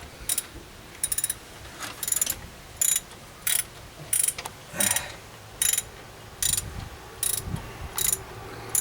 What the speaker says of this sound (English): He's bolting the pumpkin back in.